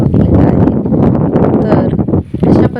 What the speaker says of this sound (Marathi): पावसाचं वातावरण झालेलं आहे जोराचा वारा